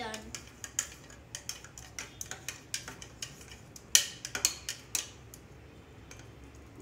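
A spoon stirring chocolate powder into milk, clinking and tapping against the cup in an uneven series of light, quiet strikes, with faint background sound.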